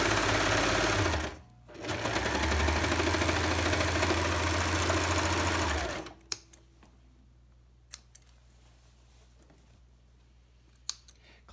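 Sewing machine stitching a fabric scrub cap runs loudly and steadily for about six seconds with one brief pause, then stops, leaving quiet handling noise and a few sharp clicks.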